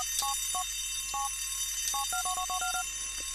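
Telephone ringing in the biker-themed video game GTA 4 The Lost and Damned: a repeated electronic two-tone ring in quick bursts, clear and alone over a steady game background hum.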